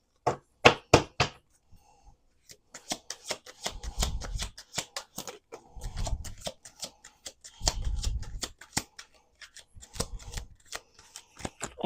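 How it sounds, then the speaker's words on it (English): A deck of cards being riffled and shuffled several times, crisp rapid flutters with soft taps and bridging between bursts. "Let's do 2 more shuffles."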